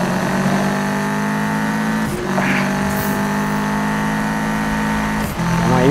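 A Mitsubishi Evo with about 513 horsepower in the video game Need for Speed 2015 holds a loud, steady engine drone with brief dips, sounding close and continuous throughout.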